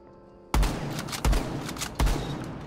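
Three heavy shotgun blasts from Mira's secondary weapon in the video game Rainbow Six Siege, loud and close, evenly spaced with booming low ends and short tails.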